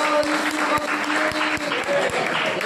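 A church congregation claps hands together at a Christian worship gathering, a steady wash of many palms with some sharper beats standing out in a loose rhythm, sustained and fairly close.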